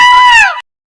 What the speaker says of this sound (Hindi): तुमने इतना जोर से अभी क्यों चिल्लाया?